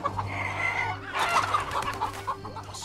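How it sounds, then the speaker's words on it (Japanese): Chickens cluck continuously in the Japanese stealth strategy game Shadow Tactics: Blades of the Shogun, a close, busy flock of fowl with no talk over it. "鶏がうるさい。"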